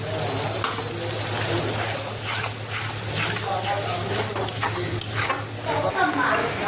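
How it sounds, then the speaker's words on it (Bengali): Tomato paste sizzles as it goes into hot oil with fennel, cumin and dried red chillies, giving a loud, close, continuous frying hiss with stirring scrapes and pan clatter. A voice speaks over the cooking sounds. "এখানে যে পেস্টটা বানিয়েছি দিয়ে দিচ্ছি টমেটো পেস্ট।"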